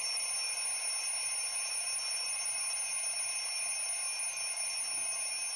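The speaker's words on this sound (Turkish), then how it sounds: "Saatten arama geliyor sandım. Alarmmış." An alarm clock ringing at night at 3 a.m., a continuous high electronic ringing tone that holds steady and loud for the whole stretch, with no voices.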